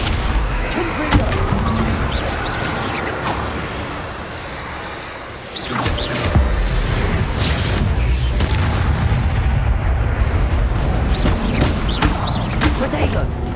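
A Confringo fire spell blast in the Hogwarts Legacy video game: continuous heavy rumbling booms and crackling bursts fill a loud, dense battle scene, with a brief lull midway before the roar resumes under voices.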